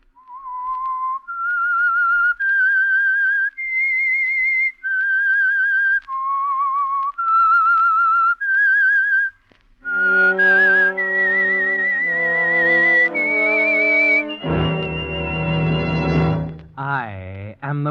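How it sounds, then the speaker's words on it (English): A whistled signal tune for an old-time radio mystery program, a slow eerie melody of clear sustained notes carried alone, then joined by orchestral music swelling up near the end. "That whistle is your signal for the Signal Oil Program"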